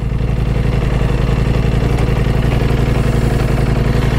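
A Ducati V4S motorcycle, just back from warranty work at a dealership, runs at a steady idle after start-up with a loud, close, even engine thrum and a light mechanical clatter.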